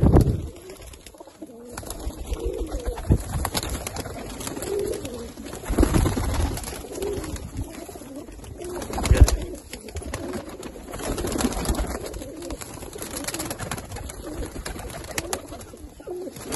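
Pigeons coo in soft, throaty murmurs that overlap continuously, with occasional rustles and flutters nearby and no talking.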